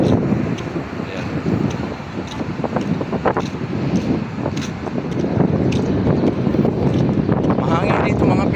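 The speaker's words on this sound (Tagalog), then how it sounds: "Mahangin dito mga pilingero" Strong outdoor wind buffets the microphone near an office building and gym, a steady low rumble that lasts the whole time, with faint voices partly buried beneath it.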